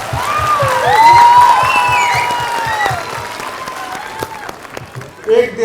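An audience at a Diwali evening event with soldiers on the border claps steadily in a sustained round of applause while a voice carries on over it.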